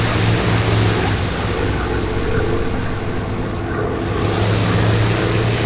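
Spitfire fighter plane in a video game making a pass, a loud, sustained propeller engine drone that swells and shifts as it sweeps by, alone without talk.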